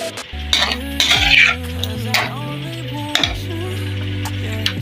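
Chicken jalfrezi stirred in a pan with soy sauce, red chilli sauce and vinegar, metal utensil scraping and clanking loudly against the pan over a soft sizzle, with a few sharp knocks.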